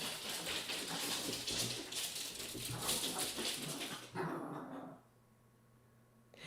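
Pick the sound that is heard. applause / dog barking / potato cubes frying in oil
dog barking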